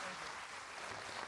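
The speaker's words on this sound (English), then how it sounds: "A round of applause." An outdoor crowd in Kogelo, Kenya applauds after Barack Obama's speech, a faint, distant, continuous wash of clapping with no clear voices on top.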